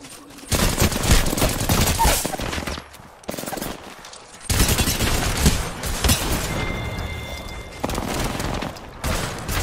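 Rapid automatic gunfire in the video game Apex Legends, loud bursts of shooting in long runs broken by short silent gaps, with no talk over it.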